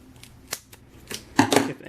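Several short, sharp snips of scissors trimming material for a Kamen Rider belt mod, close and crisp, irregularly spaced, with the loudest cuts near the end.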